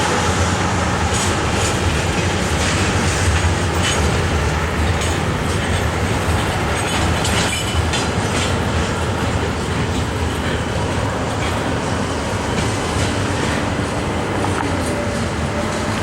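A long CSX freight train rolls past on the railroad near Pinoca Yard, a steady loud rumble of rail cars with rhythmic clickety-clack of wheels and occasional squeals, continuous throughout and close by.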